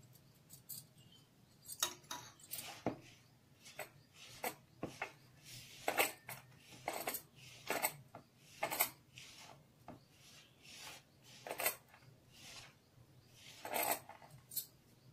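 Ghee is worked by hand into flour dough for gujhiya, a repeated soft rubbing and pressing rhythm, close and fairly quiet, continuing steadily.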